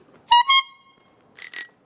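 Two short electronic quiz game buzzer tones sound close together, followed after a pause by another pair of brighter, higher beeps.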